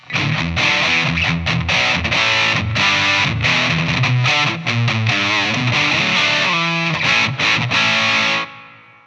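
A distorted electric guitar on the bridge pickup plays a steady, loud riff with dense, crunchy overdrive, then stops abruptly near the end.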